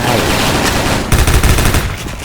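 Loud, dense video game gunfire from a Kriss machine gun, a steady roar of shots that turns into rapid, distinct bursts of automatic fire.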